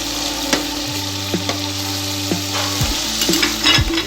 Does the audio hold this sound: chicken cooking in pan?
yes